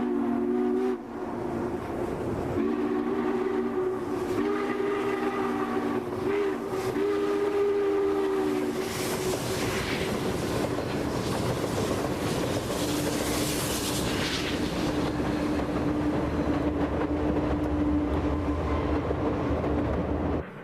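Southern Pacific 4449 steam locomotive with diesels storms past at Crescent Lake, Oregon, in 1991: loud sustained whistle tones first, then a swelling roar of exhaust and clattering wheels as the train rushes by close.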